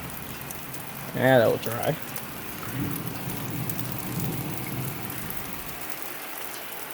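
Heavy rain pours steadily through a train of storms with strong wind, a broad constant wash close by, with a low thunder rumble beneath; a person speaks briefly near the start.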